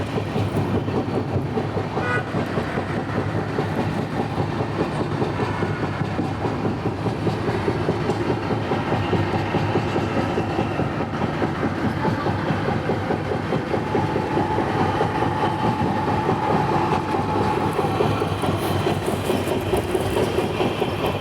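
The Saurashtra Janta Express rolls along the rails, heard from inside with a continuous loud rumble and steady clickety-clack of wheels over joints, no voices.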